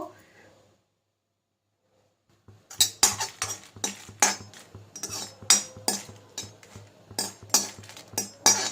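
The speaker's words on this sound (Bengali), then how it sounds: "আমি লঙ্কাটাকে হালকা প্রথমে রোস্ট করব" Dry red chillies roasted in a pan for an olive pickle masala: after a quiet start, a spatula scrapes and knocks against the metal pan in a steady rhythm of sharp, close clinks.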